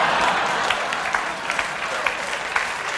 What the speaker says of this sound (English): Eddie led the applause